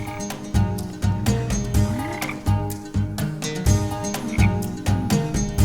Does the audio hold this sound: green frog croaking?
yes